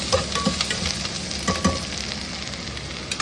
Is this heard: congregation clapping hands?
no